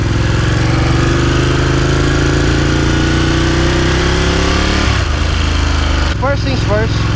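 A Ducati Panigale motorcycle engine runs loud and close with a steady droning hum that holds without a break, shifting slightly in pitch near the end.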